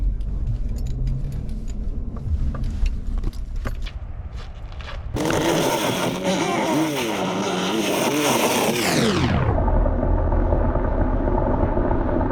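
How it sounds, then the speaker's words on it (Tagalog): A car reverses on a narrow road, its engine first idling with small rattles, then surging into a loud, rising whine before dropping back to a steady lower hum. "So papa-atras ko na lang tong sasakyan."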